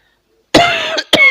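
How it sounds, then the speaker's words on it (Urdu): Two harsh, loud coughs close by, one right after the other, following a brief silence. "کھانسی سے جو جھٹکا لگتا ہے نا، یہ بہت تکلیف دہ ہوتی ہے"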